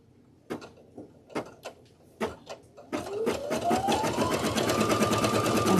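A sewing machine stitches over appliqué, starting with several separate clunks and short bursts, then settling into a steady, fast rhythmic whir that continues to the end, close and clear with no talk.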